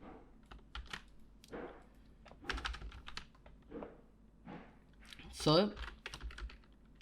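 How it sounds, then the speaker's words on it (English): A computer keyboard is typed on while retyping HTML code, with quick bursts of close key clicks spread over several seconds and a brief spoken word near the start. "I'll just quickly retype it since it's a little bit hard to see here."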